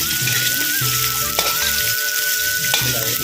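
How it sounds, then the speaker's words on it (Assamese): Karonda fruit pickle is stirred in a hot pan, giving a loud, steady sizzle broken by repeated scraping strokes of the spoon. No one talks. "এনেকৈ লাৰি দিছোঁ।"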